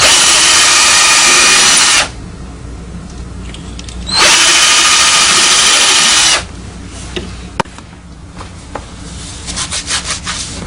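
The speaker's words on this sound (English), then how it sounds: "While we're drilling, we'll also drill the holes for on the two levers" Two loud bursts of a power drill boring into wood, each about two seconds long, separated by quiet, followed by small knocks and scraping.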